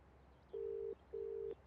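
Two steady electronic ringback tones, each lasting under half a second with a short gap between, quiet and clean over faint background hiss.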